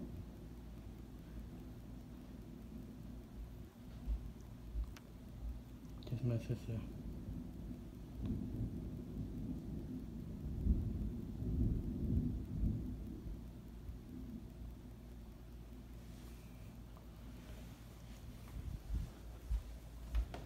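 Thunderstorm with steady rain and low rolling thunder rumbles swelling in the middle, fairly faint overall; a person speaks briefly over it.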